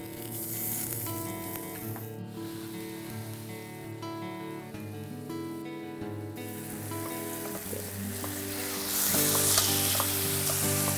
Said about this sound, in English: I'm using about 3 tablespoons of canola oil in my oven-safe skillet, and we're gonna brown the tenderloin on all sides.